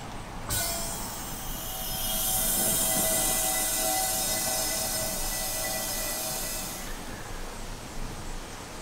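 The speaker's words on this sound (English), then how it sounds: "you could actually hear it kind of start filling up the tank" Steady broadband hiss of propane flowing from a valve while a 1 lb tank is refilled, starting abruptly, holding loud and even for several seconds, then dropping to a softer hiss near the end.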